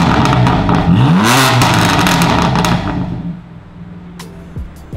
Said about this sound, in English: We're just gonna get a couple revs.